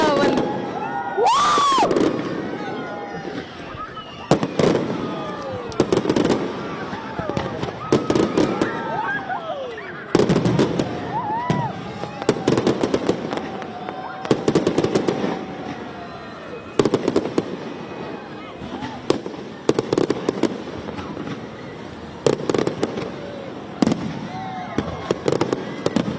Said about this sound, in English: just witness the fireworks going on now